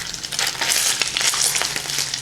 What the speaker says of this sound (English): You want to hear a nice sizzle.